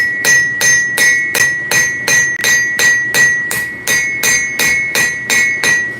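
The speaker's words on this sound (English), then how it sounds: "Planish those bevels." Steady rhythmic hammer blows planishing the bevels of a forged blade on an anvil, about two strikes per second with a bright metallic ring, close and loud, no talk.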